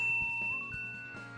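A bright notification bell dings, a clear, clean chime with a brief ring-out that sits faintly over a low musical bed, with no voices.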